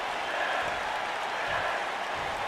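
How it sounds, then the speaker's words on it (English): A crowd roars and cheers in an AEW wrestling video game arena, a loud, steady wash of noise that holds without a break. "Crowd's starting to get fired up now."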